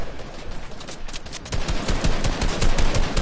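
Rapid bursts of video game gunfire, sharp repeated shots in quick succession that grow louder and denser in the second half, close and unaccompanied by talk.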